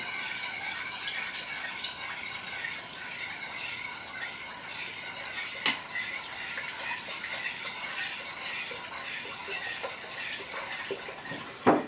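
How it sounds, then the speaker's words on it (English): Milk pours and swirls as a slotted spoon stirs vigorously through it while making homemade mozzarella, a steady wet sloshing with occasional faint clinks. "So now I'm going to pour in the milk. And with my slotted spoon, I shall stir vigorously."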